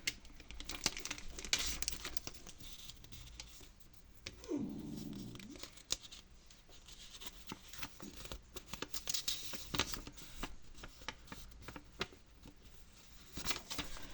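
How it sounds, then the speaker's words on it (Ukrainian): A small plastic packet from a JBL Go Essential speaker box crinkles and rustles close by, with a brief tearing sound partway through, then continued handling and crackling, fairly quiet. "Зараз я відкрию цей пакетик."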